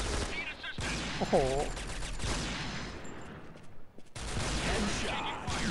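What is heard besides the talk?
sniper rifle gunfire in video game Point Blank Strike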